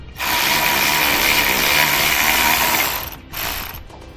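A 13 mm socket wrench ratchets a screw into the tapped spring perch of a 2017 Ford during an Air Lift LoadLifter 5000 helper spring install. The close, loud, rapid clicking runs for about three seconds, pauses, then clicks briefly again.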